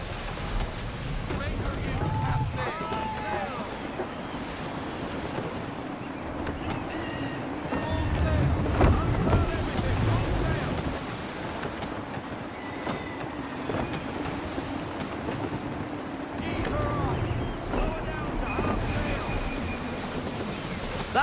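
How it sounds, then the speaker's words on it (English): Gusty sea wind rushes steadily around a sailing ship in Assassin's Creed III, with waves washing and creaking beneath, swelling in a few louder surges. "Wind looks to be shifting. Stay alert, Connor. Gusty winds can be difficult to manage"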